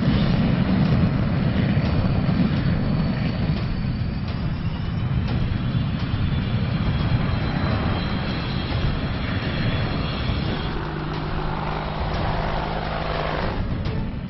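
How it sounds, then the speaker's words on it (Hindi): Rafale and Sukhoi fighter jets flying in an Indian Air Force exercise near the China border, a continuous loud roar of jet engines that holds steady throughout, with no talk over it. "वायुसेना के इस युद्धाभ्यास में राफेल और सुखोई जैसे ताकतवर फाइटर जेट्स शामिल हो रहे हैं"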